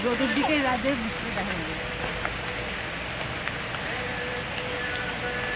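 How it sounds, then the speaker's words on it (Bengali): Rain falling steadily in a forest during an outdoor barbecue, a constant pattering hiss on surfaces, with people talking over it at the start. "বৃষ্টি পড়ছে"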